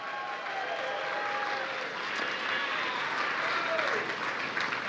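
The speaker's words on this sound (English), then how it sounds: "Let's give him a round of applause." A crowd at the Iowa State Fair applauds a young whistling winner from Bondurant, a broad, steady wash of clapping with faint voices and a few whistle-like tones rising through it.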